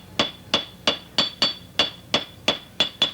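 Blacksmith's hammer ringing on hot metal to knock slag off, ten sharp, evenly spaced metallic strikes with a bright ringing tone, close and loud with no talking.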